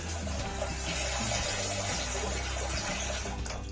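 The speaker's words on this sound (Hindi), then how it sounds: "और अब इसमें हम पानी शामिल करेंगे।" Water poured into a pot of beef biryani gravy, a continuous gushing, splashing flow lasting several seconds at moderate volume with no talking.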